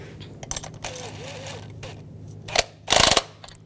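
A ratchet wrench tightens a bracket bolt on a 2011-2018 Volkswagen Jetta 2.0L TDI intake manifold, producing close metallic clicks and clanks in short bursts, ending with a louder rattling clatter.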